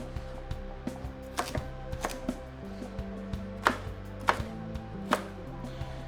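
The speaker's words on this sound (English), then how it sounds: "I'm just gonna cut these carrots into some chunks that are small enough to go into the juicer" A knife chops carrots into chunks on a cutting board, with irregular sharp chopping thuds repeating steadily, close and distinct, with no talking.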